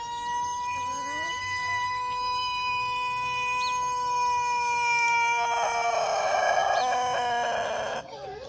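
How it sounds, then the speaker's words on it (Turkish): Village chickens clucking with a rooster crowing, steady cackling and calls from several birds close by, growing busier and louder near the end. "Köy tavukları şu an dışarıda geziyor karışık."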